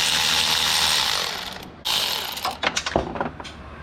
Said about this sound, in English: So I'm using a 12mm swivel socket.